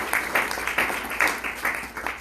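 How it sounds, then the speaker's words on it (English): Luncheon audience at the State of Irondequoit event applauds, a moderate wash of clapping with rhythmic surges throughout, fairly steady and not very close. "So give Alice and her team a round of applause."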